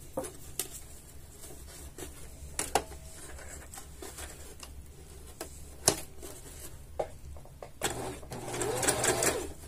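Sewing machine stitching a load seam on fabric, heard as a quiet mechanical run punctuated by sharp clicks and taps, with a louder whirring burst near the end.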